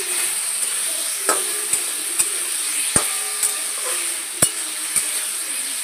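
Food frying in a pan after salt and turmeric go in, with a steady sizzle and several sharp clinks and scrapes of a spoon stirring it. The pan sounds close and there is no talk.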